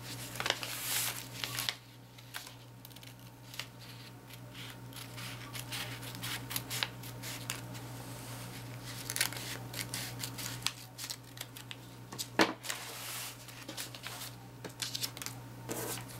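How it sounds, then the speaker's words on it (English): Scissors cutting the flap off a tattered paper sewing pattern envelope, a run of small close snips and paper crinkles that comes in clusters, with a couple of louder cuts along the way. "what I'm going to do is actually just cut the little flap off very carefully"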